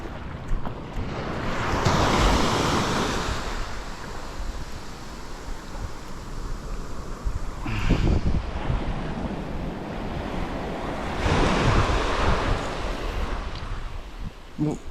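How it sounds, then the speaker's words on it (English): Ocean waves break and wash over a rocky shore during rock fishing, a steady roar of surf with two louder surges, heavy wind buffeting the microphone throughout. "Let's wait for this little wave."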